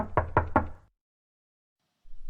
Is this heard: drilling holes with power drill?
no